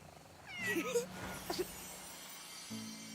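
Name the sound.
cat meowing in a video game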